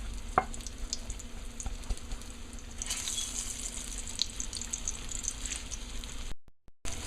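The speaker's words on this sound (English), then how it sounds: "this is how I fry it up a little" Flour-coated eggs fry in oil for an egg and potato curry, with a soft, steady sizzle and scattered small crackles at a low, close level before the sound abruptly cuts out.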